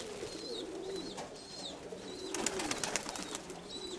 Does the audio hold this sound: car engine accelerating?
no